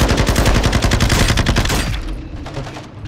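Rapid automatic gunfire in Modern Warfare 2 Remastered rattles loud and close for two seconds, then trails into fainter, scattered shots.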